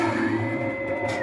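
Clock mechanism turning inside a barn-find Twilight Zone pinball machine, a steady close mechanical whir and hum with a continuous tonal drone that shifts slightly at the end.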